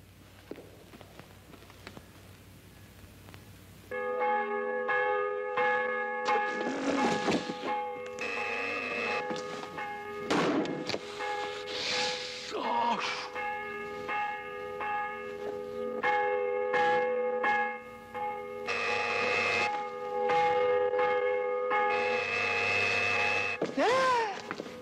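Church bells peal in a sustained, ringing clang with overlapping strikes and long resonant tones, beginning abruptly after a quiet night-time stretch and continuing loud throughout, with brief voices at moments.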